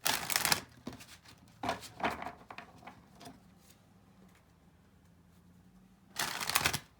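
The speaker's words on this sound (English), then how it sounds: "I have to shuffle this deck sideways as well." A deck of tarot cards being shuffled sideways in small hands, several quick riffling bursts of flicking card sounds separated by quieter pauses, close up with no talking.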